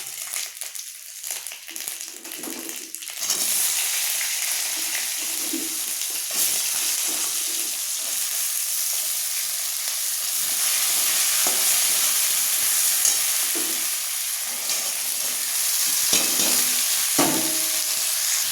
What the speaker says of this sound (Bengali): এই 10 মিনিট ধরে ভেজে নেবো, ভালো করে ভেজে নেবো।